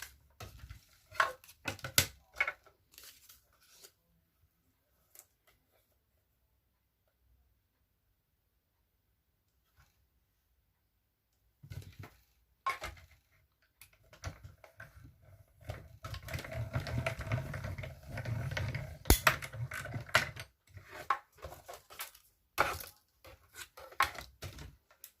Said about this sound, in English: so I'll just throw my mini cut and emboss machine back in.